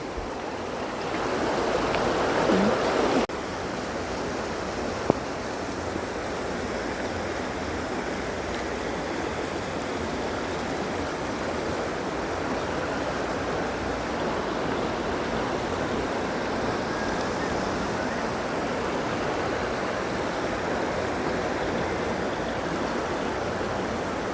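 A river in flood roars past with heavy, rushing water. The loud, dense wash holds steady throughout, broken only by a single sharp click early on, with no voices.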